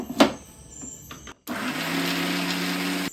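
Mixer grinder grinding chutney for ragi dosa: after a few soft clicks and a brief pause, the motor kicks in with a loud, steady high-pitched whir that runs evenly for about two seconds before cutting off.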